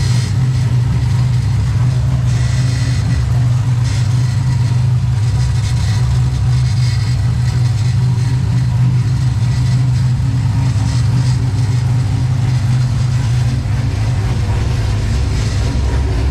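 A car engine idles steadily with a loose exhaust jangle, a continuous low rumble holding level throughout with no pauses.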